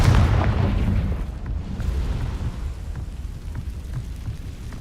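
A fiery Confringo spell explosion in Hogwarts Legacy, heard as a loud rumbling boom that trails off into a sustained low roar, with no voices.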